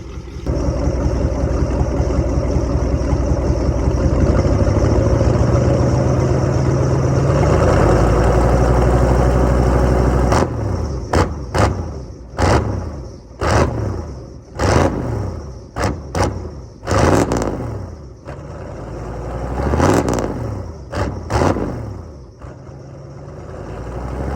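A loud, smoky 7.3L Ford diesel truck engine idles after a cold start with a deep steady rumble, then is revved repeatedly in sharp bursts that rise and fall, sounding close by.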